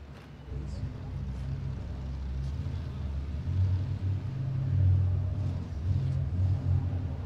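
An off-road race vehicle at King of the Hammers tears through the desert, its engine a steady, loud low rumble that swells and eases slightly, with voices talking over it.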